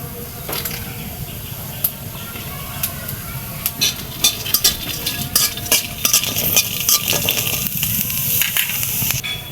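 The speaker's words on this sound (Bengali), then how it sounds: "পেঁয়াজ মরিচ আর রসুন ভেজে নেব" Onion, chili and garlic frying in a pan, a steady sizzle broken by repeated stirring scrapes and clinks of a utensil against the pan, close and fairly loud.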